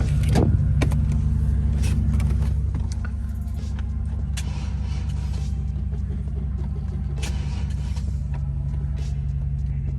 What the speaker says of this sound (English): It was almost about to crank,